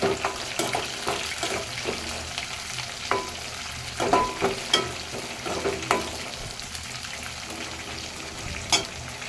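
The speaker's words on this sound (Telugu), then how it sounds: "ఒక నాలుగైదు పచ్చిమిర్చి చీలికలు చేసి వేస్తున్నాను కొంచెం ఫ్రై అవ్వాలి" Curry leaves, slit green chillies and onions fry in oil for a spinach chicken curry, a close crackling sizzle broken by frequent spatula clinks and scrapes, with irregular louder bursts and no voices.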